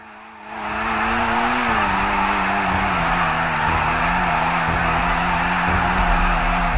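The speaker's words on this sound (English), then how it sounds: "tap on the accelerator until your tires are at the max grip" Sustained, loud virtual car engine held at steady revs with a rising tone and tire noise, heard on a FiveM server in GTA 5 while warming the tires to maximum grip; no talking.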